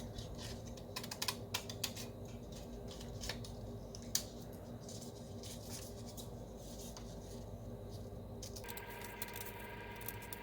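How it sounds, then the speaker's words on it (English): Scissors snip steadily through paper while cutting out alligator teeth for an egg carton craft, a run of quiet, repeated close clicks and rustles over a constant background hum. "cut out the paper, and then go ahead and cut out the teeth"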